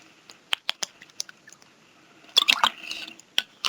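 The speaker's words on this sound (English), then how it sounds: "one sip of water" Someone takes a sip of water near the microphone during a live talk broadcast: a few soft wet clicks and lip smacks, then a brief cluster of slurping and swallowing sounds, close and quiet.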